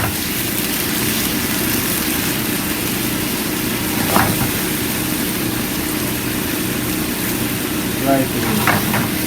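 Sliced lotus root for Japanese kinpira sautés in a reducing sauce, giving a steady close sizzle with a couple of faint stirring knocks.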